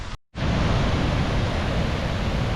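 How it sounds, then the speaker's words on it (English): A waterfall on the Big Pine Creek Trail roars as a loud, steady, broadband rush of falling water that drops out for a moment near the start, then continues without a break. "There's the waterfall."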